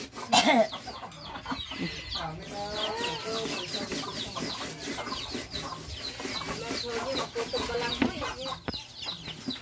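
Chickens cluck repeatedly at close range on a farm, with busy overlapping calls and a few sharper squawks, and a voice talks faintly underneath.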